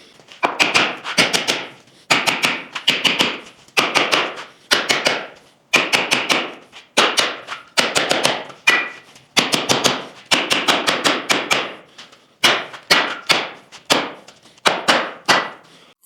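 Steady, sharp hammer blows drive metal staples into a blacksmith's anvil stand in quick rhythmic bursts with brief pauses between groups, close up and loud.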